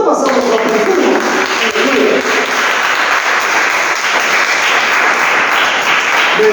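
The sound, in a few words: congregation applause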